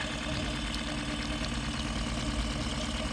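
Engine of a newly bought boat running inside the hull, a steady close idling drone with a low knocking pulse, continuous and even without talk.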